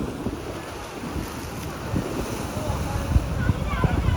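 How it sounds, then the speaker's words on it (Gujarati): Sea waves at Gomti Ghat in Dwarka wash in as a low, rumbling surge under heavy wind buffeting, building slightly toward the end. "પાણી આમ જોઈ લ્યો, તમને મોજા બતાવું."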